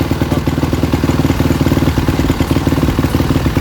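A 2007 Suzuki RMZ 450 motorcycle engine running close by, a loud rapid thumping idle with an even pulsing rhythm and some mechanical clatter, no talk.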